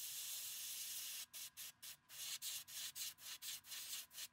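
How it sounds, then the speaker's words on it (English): Black spray paint hisses onto a fishing lure in a string of short, rhythmic bursts from close range, each puff separated by brief gaps after an initial steady spray. "spray the back just a little bit more with the black"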